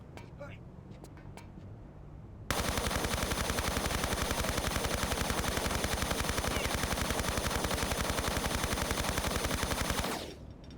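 Sustained rapid automatic gunfire in the remastered Tomb Raider 3 video game, a loud continuous stream of shots lasting several seconds before cutting off, preceded by quieter game sounds.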